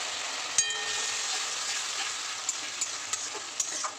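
Ground spice paste goes into a pan of frying vegetables, setting off a steady close sizzle, with a few sharp clinks as a spoon stirs through the pan.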